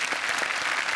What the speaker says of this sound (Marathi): अक्षरशः या चारही पाचही कलावंतांसाठी जोरदार टाळ्या झाल्या पाहिजेत.